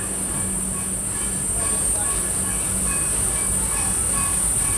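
Steady rumble of a metro train at a station platform, with a constant high electrical whine over a low mechanical drone, continuous and fairly loud throughout.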